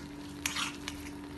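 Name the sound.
stirring and boiling chutney in a pan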